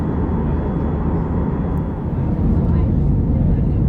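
Airbus A319 airliner on approach into Schiphol Airport, heard from inside the cabin as a loud, steady broadband engine and airflow roar with a low rumble, continuous throughout.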